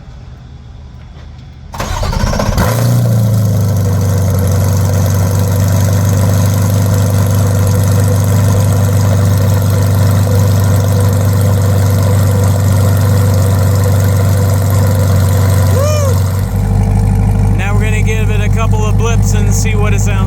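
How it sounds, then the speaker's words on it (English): Corvette E-Ray with a newly installed track exhaust cold-starting: after brief quiet the engine catches with a loud roar, then settles into a deep, steady high idle before dropping lower near the end. "This is the first cold start after the installation of the exhaust."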